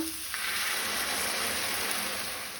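Tomato puree poured into ginger-garlic paste frying in a pan for a Goan tawa vegetable bhaji, a sharp burst of sizzling that settles into a steady hiss.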